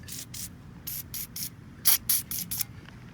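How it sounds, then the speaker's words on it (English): Short hissing bursts from an aerosol spray paint can onto a car throttle body, about ten quick puffs in uneven groups, close and fairly loud against a low background hum. "might as well just spray it a bit"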